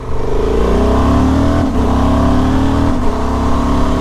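A car pulls hard through the gears using a quick shifter, its engine note climbing steadily and dropping sharply at two quick upshifts, loud and close with no talk.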